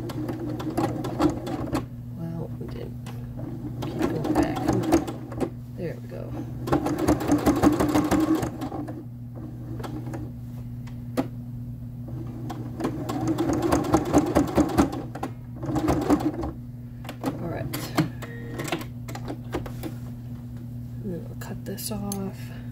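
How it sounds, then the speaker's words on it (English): A sewing machine backstitches a seam on a dress, with several bursts of rapid close stitching over a steady low motor hum and quieter pauses between runs; a person talks at times. "I'm going to backstitch a couple times just to make sure it's good and secure"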